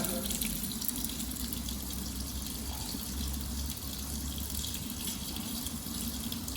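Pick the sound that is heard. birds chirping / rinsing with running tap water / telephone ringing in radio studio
rinsing with running tap water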